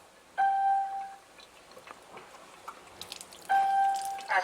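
Faint water drips from an AlkaViva/IonWays Athena JS-205 water ionizer after its flow control valve is turned off, with two clear electronic beeps, one near the start and one near the end.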